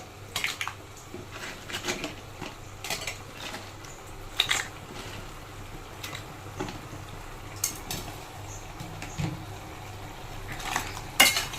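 A spoon stirs crab curry in a metal pan: repeated scraping and clinking strokes at an uneven rhythm, close and moderately loud, with no talking.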